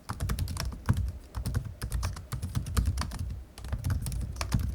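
Rapid, continuous typing on an ASUS Zenbook Pro 17.3-inch laptop keyboard with 19mm key spacing, close up, with dense irregular key clicks and no voices.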